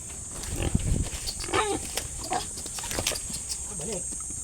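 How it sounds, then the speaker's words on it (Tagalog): Pet pigs grunt and snort in short bursts while being moved into a new pen, a few squealy grunts scattered over a steady high hiss, with people talking nearby. "ayaw sumunod nitong ating mga alagang baboy"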